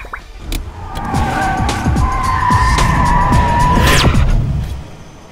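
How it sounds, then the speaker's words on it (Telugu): A car turns back sharply, its engine revving loudly while tyres skid and squeal in long rising and falling streaks, building to a sharp screech before fading. "జాన్సన్, కారు వెనక్కి తిప్పుతున్నారేంటి ఫాదర్?"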